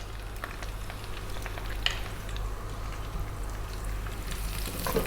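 Onion and garlic fry in a pan beside browned chicken, a steady close sizzle with a low constant hum beneath and occasional stirring scrapes.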